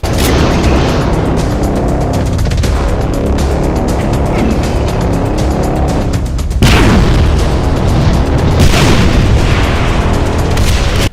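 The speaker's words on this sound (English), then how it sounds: "Firing wavy wall bouncing projectiles that shoot smaller projectiles in random directions." A Mancubus variant in a Doom mod fires wavy, wall-bouncing projectiles that split into smaller shots, giving a continuous, very loud roar of booming blasts and rumbling explosions with a sharp surge partway through.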